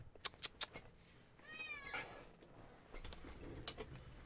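A domestic cat meows several times in a quiet room, with a drawn-out wavering meow in the middle, close and fairly clear, with no talking over it.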